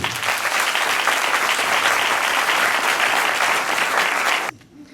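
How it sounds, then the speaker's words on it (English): Audience at an Andhra Sabha devotional gathering in Pietermaritzburg applauds to welcome a visiting professor, a dense, steady, loud wash of many hands clapping for about four and a half seconds before cutting off abruptly. "a pulsating applause to demonstrate our joy of receiving a speaker of such great repute"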